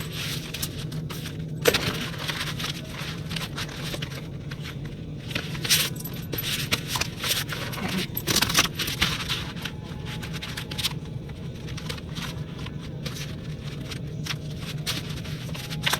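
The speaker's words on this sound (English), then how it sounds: "Okay, so let's go ahead and shuffle these." A deck of slick tarot cards being shuffled by hand, with continuous soft riffling, scraping and flicking close up, occasional sharper taps, no talking.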